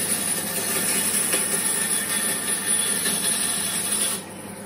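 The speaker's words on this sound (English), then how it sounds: "using the drum sander here attached to the arbor of my bench grinder to then sand down to the line" A drum sander mounted on a bench grinder arbor sands down a willow cricket bat blade, giving a continuous rasping, rubbing grind over a steady whir, close and fairly loud before it tapers off near the end.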